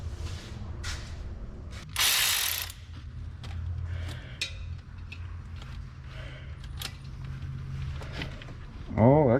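Ratchet working loose 7 mm catalytic converter studs on a 2018 GMC Acadia, with scattered short clicks and metallic taps, a brief loud burst near the two-second mark, and a low steady hum underneath throughout.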